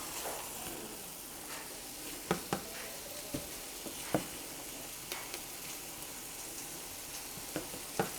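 Meat browning in a pan for a tuna melt, a soft continuous sizzle broken by scattered sharp taps and scrapes of a utensil stirring, fairly quiet and close, with no talking.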